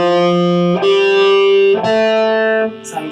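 An electric guitar with heavy distortion plays three sustained notes or chords in a row, each ringing loud and dense with harmonics, with the fifth string damped by the left hand, ending in a brief noisy scrape.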